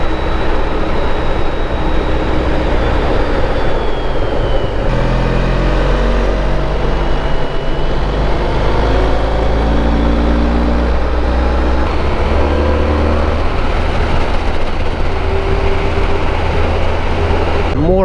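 Motorcycle engine on a long-distance highway ride, a loud, constant drone with shifting tones and heavy wind rush close to the microphone, steady throughout with no clear voice.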